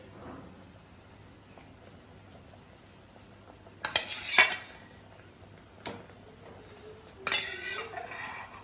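Pot stirring while hilsa fish cooks in mustard sauce, a few short bursts of metal clinking and scraping against the pan, quiet between strokes, with a faint sizzle underneath.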